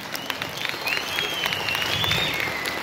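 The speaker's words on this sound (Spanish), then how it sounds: "es un gran aplauso, va ahí," A crowd in Santa Eulalia, Huehuetenango applauds to welcome Sandra Torres. Clapping of moderate loudness comes from a sizable gathering, with a whistle-like tone rising through the middle and faint crowd murmur underneath.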